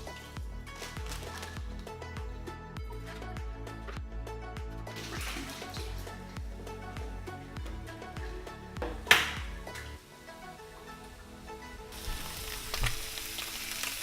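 A burger patty and eggs frying in oil in a pan, a continuous close sizzle with occasional light clinks, quieting briefly near the end before the hiss returns.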